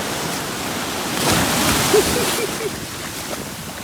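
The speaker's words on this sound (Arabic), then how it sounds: "شتي الموج كلها" Ocean waves washing onto a beach, a broad steady roar of surf that swells in the middle then eases, fairly loud and close, with a faint voice briefly audible beneath.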